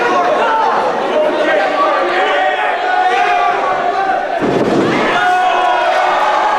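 A wrestling event crowd reacts to a wrestler's entrance with loud, mixed shouting and chatter, a dense wall of voices with a sudden thud partway through and the noise swelling again afterward.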